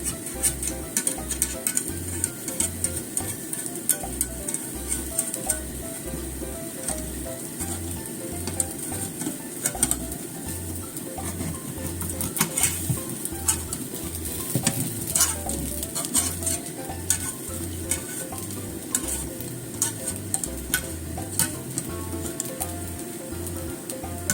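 A potato galette sizzles gently in a pan over low heat, a steady close crackle with a soft rhythmic patter underneath running the whole time, no voices.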